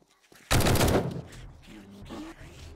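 In the survival game 7 Days to Die, a loud burst of gunfire is aimed at a bear. It opens with a sudden, dense volley and then gives way to quieter rattling and scattered impacts, with no talk.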